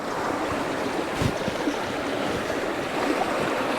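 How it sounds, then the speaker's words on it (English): Water running down from the mountains alongside a road near Mount Fuji, a steady broadband rush that stays loud and even throughout, with a brief louder splash partway through and no voices. "Water coming from the mountains across the road here. Not sure if you can see it flowing down there."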